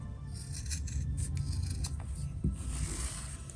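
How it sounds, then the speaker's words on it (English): Scissors trim the edges of freshly sewn fabric for a handmade gift, giving a run of close, dry snips and rasping cuts that continue steadily for a few seconds with no talking. "Now after I sew this together, I'm gonna go and trim this."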